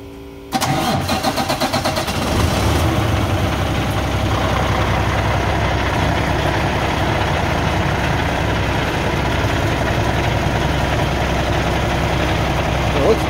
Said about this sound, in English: Can you start it again, please?